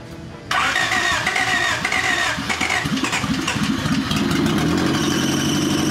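A 1989 Honda Accord being revived cranks over and fires up after a little gas is added, then settles into a loud, steady, slightly rough idle close by, with no talking.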